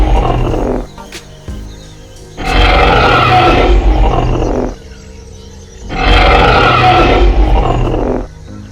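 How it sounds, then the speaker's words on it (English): Two long, loud roars from a Giraffatitan-type sauropod in Roblox Dinosaur Simulator, each lasting about two seconds with a rumbling low end, separated by a quieter game backdrop. "now let's check out the roars"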